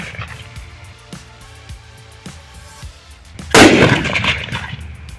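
A homemade spring-loaded potash gun built from a bike shock-absorber spring fires a firecracker shot outdoors. Faint clicks lead to a single loud, sharp bang partway through, followed by a ringing tail that fades.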